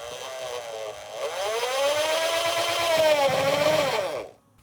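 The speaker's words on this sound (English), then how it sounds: "My drill got stuck already" A cordless power drill drives a screw until it gets stuck, its motor whining in a sustained tone that dips and rises in pitch for about four seconds at close range before cutting off.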